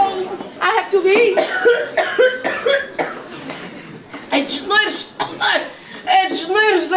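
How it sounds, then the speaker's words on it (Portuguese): Repeated harsh coughs break up a sung carnival school performance, several bursts in a row, loud and close, mixed in with voices singing over them. "É de nervos esta tosse."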